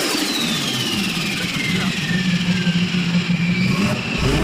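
A car engine roars steadily with a rough, throaty drone and rising pitch, loud and close throughout with no pause, while someone talks over it.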